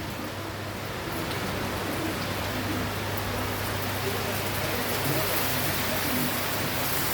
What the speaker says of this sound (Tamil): பெரிய பெரிய துளியாக விழுது.